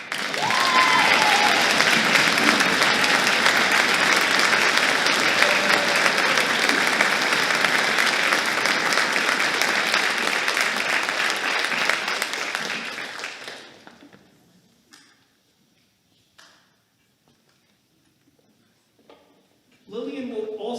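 An audience at a high school spring orchestra concert bursts into sustained, dense applause for an award winner, loud and steady for about thirteen seconds before fading to near silence, with a few scattered claps and a brief return at the end.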